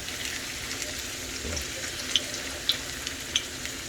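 Empanadas (Puerto Rican pastelitos) frying in hot oil, a steady soft sizzle and hiss with a few faint pops, continuous and fairly close, with no talking.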